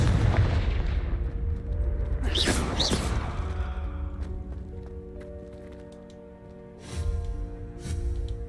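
A Confringo fire spell bursting in the Hogwarts Legacy video game, a loud blast around the two-to-three second mark with a trailing rumble, then two softer bursts later, with game ambience throughout.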